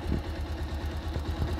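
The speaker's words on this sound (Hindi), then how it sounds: "बाइक अभी शुरू है" A motorcycle engine idles in neutral, a steady low close throb with a faint uneven knock, and no talking over it.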